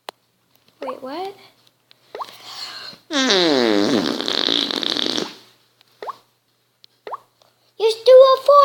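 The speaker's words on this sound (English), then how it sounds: "Just do a fart bomb." Fart bomb sound effect: a loud, sustained, wet-sounding blast lasting about two seconds in the middle, surrounded by short squeaky blurts and voices chattering before and after.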